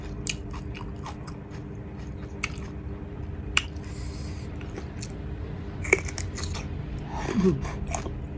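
Crunchy bites and chewing of crisp Thai candied jujube, pitted, with close sharp crunches scattered over a steady low background hum and no talk.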